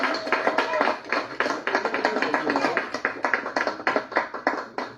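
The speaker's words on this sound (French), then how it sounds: "Applaudissements" Applause from an audience at a French-language talk, a dense run of overlapping hand claps with sharp individual slaps standing out, steady and fairly close for the whole stretch.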